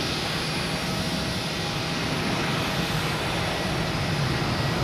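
A Virgin Atlantic airliner's jet engines roar loud and steady at Boston Logan Airport, a continuous broadband rush with no talk over it.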